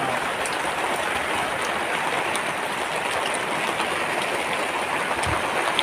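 Steady rain falls outdoors over a backyard lechon roast, a loud, continuous hiss of drops without break.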